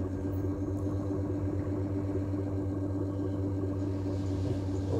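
An electric motor spins a neodymium magnet generator, giving a steady low hum with a faint mechanical rattle, close and unchanging throughout, with no voices.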